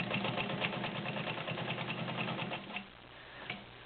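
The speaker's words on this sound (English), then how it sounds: "It's a very quiet machine. Rolls along nicely." A vintage all-metal Dial A Stitch sewing machine stitches through a two-layer fabric sample, a steady, fast, close mechanical whirr with rapid rhythmic ticking. It slows and quiets toward the end.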